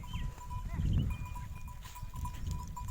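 Goats being led out to graze on a morning village outing bleat in short, wavering calls early on, fairly close, over a steady outdoor background with no talking.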